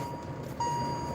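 A car's seatbelt warning beeps, a thin steady electronic tone that switches on partway through and persists over a low road and engine rumble inside the cabin.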